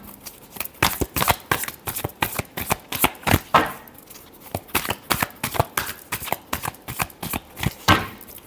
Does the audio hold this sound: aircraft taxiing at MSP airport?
no